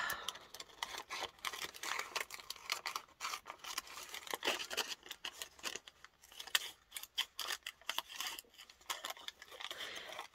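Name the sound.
scissors cutting a paper baguette bag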